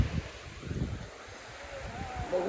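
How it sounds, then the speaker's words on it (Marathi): Strong wind near a waterfall in Palghar buffets the microphone in low rumbling gusts throughout, with a faint whistle riding over it. "वारं खूपच चाललंय"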